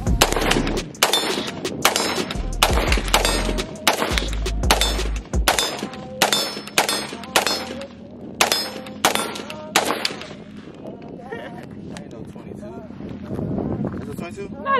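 A .223 rifle fires a long series of sharp, loud gunshots outdoors in quick irregular succession, some sounding with metallic clangs of hit targets, with wind noise and people talking between and after the shots.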